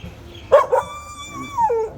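A dog, dressed in clothes against bitter cold, gives a couple of sharp yips that stretch into a drawn-out whining howl, close and clear.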